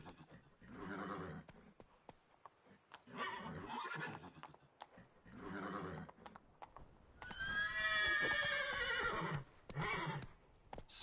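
Roach, the horse in The Witcher 3, gallops with rhythmic hoofbeats in repeated bursts, then lets out a loud, clear whinny; a player speaks briefly between runs.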